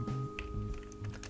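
Quiet keystrokes tapping on a computer keyboard, a few brief clicks over a steady low hum.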